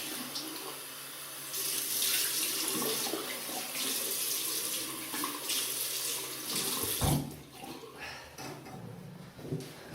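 A tap runs steadily into a sink for rinsing after a shave, a continuous close splashing that shifts slightly as hands move through the stream, with no voices.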